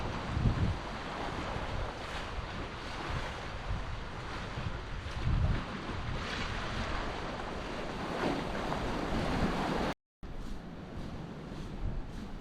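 Sea waves washing ashore at Cala San Vicente, a steady broadband surf wash with gusty wind buffeting the microphone, a few louder surges and a brief dropout near the end, no voices.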